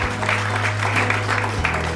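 Audience applause at a Hindi literary honour ceremony, a steady dense patter of clapping from a crowd filling the hall, with a low hum running underneath throughout.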